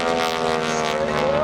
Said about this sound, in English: Carol Pilon and Marcus Paine coming around from the left, building up some airspeed